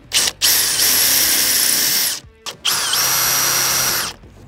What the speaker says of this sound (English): I have my drill holes now for the screws.